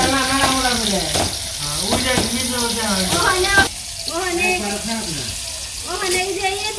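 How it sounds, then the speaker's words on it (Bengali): Fish fry in hot oil with a steady, hissing sizzle that runs underneath someone talking throughout, close and moderately loud. "তেল গরম হয়েছে মাছগুলো দিয়ে দিই"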